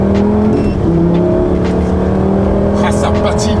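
Lamborghini Gallardo V10 revving and accelerating on a country road, a loud, close engine roar with shifting pitch, heard from inside the car, with a voice partly talking over it.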